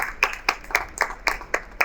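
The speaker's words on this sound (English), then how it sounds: "A round of warm applause and excitement, please" Audience clapping at a stage event on digital marketing in retail, in steady rhythmic bursts about four per second, moderately loud and fairly close, with no voices.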